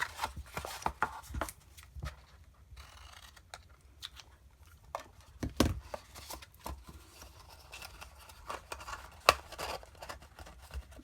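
Scissors trim paper for a gift box paper craft, making quiet close snips and paper rustles in irregular bursts over a faint background, with no talk.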